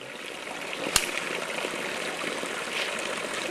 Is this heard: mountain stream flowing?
yes